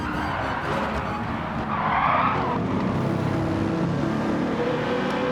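A race car in a sim racing league race skids and spins off the track, a steady loud engine and tyre roar with a brief screeching swell in the middle, running throughout with no talk.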